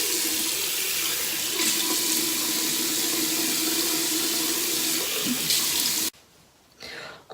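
A bathroom tap runs steadily and fairly loudly while a face mask is rinsed off, then cuts abruptly, followed by a brief quieter trickle.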